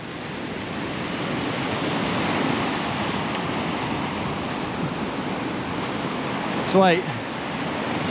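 Heavy swell rolls in as ocean surf breaks on a beach, a broad continuous wash of noise with wind, while a person briefly speaks near the end.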